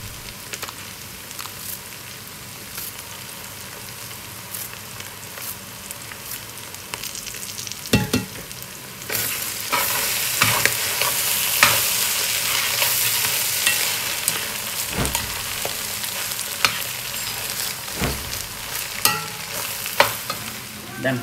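Fish filling with chives for stuffed Surinamese bitter melon stirs and sizzles in a pan, a steady close frying hiss that grows louder midway, with scattered scraping knocks from the stirring.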